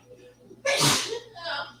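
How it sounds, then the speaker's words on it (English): A single loud, close sneeze bursts out, followed by a brief voiced sound. "She sneezed and said, ow."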